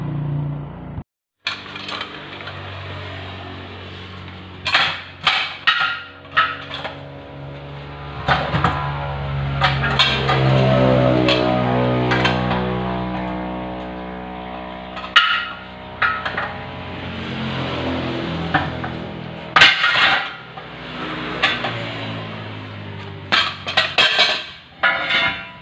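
A manual bead breaker works a truck tire off its steel rim, giving scattered metallic clinks, clanks and ringing knocks, some in quick bursts, against a low mechanical hum and quieter stretches between.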